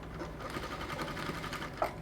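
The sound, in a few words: sewing machine stitching seam of bubu dress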